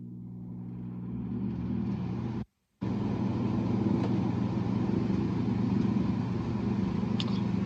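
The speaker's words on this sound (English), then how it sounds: "I can actually hear the motor going like this, what it sounds like." A salvaged air conditioner motor runs with a steady, close droning hum full of low harmonics. It drops out for a split second, then resumes unchanged.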